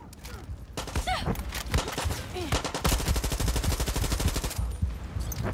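Loud rapid automatic gunfire from a heavily recoiling gun in the video game Far Cry 6, with long sustained bursts of shots in quick rhythm, close and dominant.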